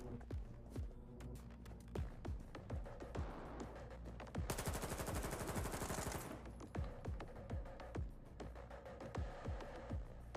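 Rapid gunfire rattles through a horror video game, bursts of sharp shots repeating in quick succession, with a dense, loud automatic stretch in the middle and no talk over it.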